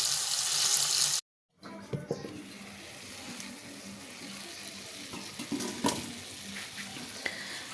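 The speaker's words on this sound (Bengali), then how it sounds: "এটা একদম কমে হোক ভাজা" Chicken frying slowly over low heat in a pan gives a soft, steady sizzle with a brief silent gap and occasional light clinks and scrapes.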